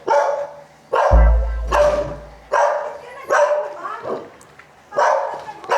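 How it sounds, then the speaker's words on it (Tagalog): Several dogs bark angrily in repeated bursts, about five or six loud close barks spaced through the moment, with brief whimpering and a faint voice between them in a workshop where a Yamaha Lexi 155 scooter is being serviced. "Galit na galit yung mga aso."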